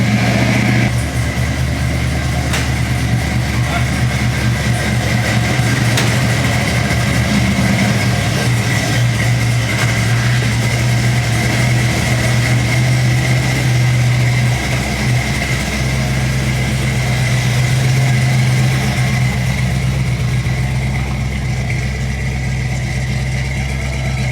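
A Chevy truck engine idling with a steady, loud low rumble throughout, close by and continuous, with no talk over it.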